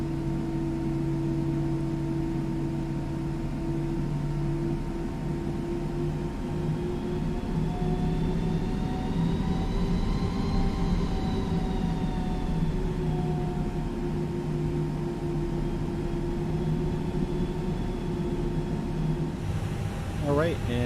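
A Fenix A320 airliner taxiing in Microsoft Flight Simulator, a steady engine drone with tonal whine and hum held throughout, a faint pitch swell midway, close and continuous.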